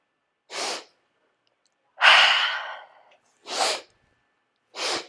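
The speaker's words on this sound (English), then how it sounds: "exhale through the mouth" Yoga breathing during a power yoga session: four forceful breaths through the mouth, short sharp puffs spaced about a second and a half apart, with one longer drawn-out exhale, close and clear with no talking.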